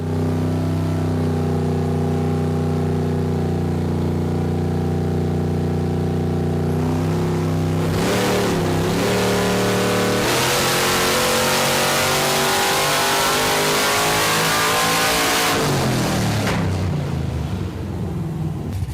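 A loud Pontiac engine on a dyno idles with a deep drone, then revs up hard in two long, roaring pulls before dropping back down.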